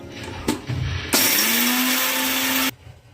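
A mixer grinder coarsely grinds roasted, cleaned peanuts in one loud whirring burst of about one and a half seconds, preceded by a few knocks and handling sounds and followed by a quiet spin-down.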